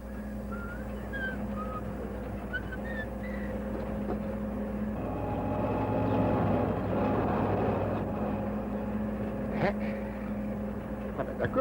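A low, droning old truck engine hum runs steadily throughout, swelling slightly midway, with a few faint clicks and chirps over it.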